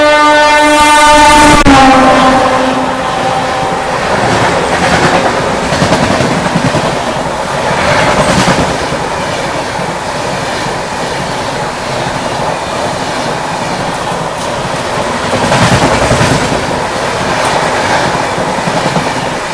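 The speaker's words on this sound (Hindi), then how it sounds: "अभी अपनी बुंदेलखंड एक्सप्रेस को यहाँ पर ओवरटेक करने आ रही है मरुधर एक्सप्रेस" Marudhar Express passes on the main line, overtaking a halted Bundelkhand Express, opening with a loud horn blast, then a steady roar of rolling wagons and clattering wheels close by for the rest of the pass.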